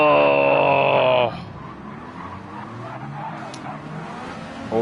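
Race car slides into oversteer in Gran Turismo 7 during a drift series round, a loud high engine whine with squealing tires for just over a second, then cutting to quieter, muffled rumbling under faint commentary.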